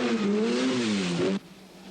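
A Mazda RX-7 rally car on a British forest stage, its rotary engine revving hard with rising and falling pitch, loud and close, before cutting off abruptly into quieter background.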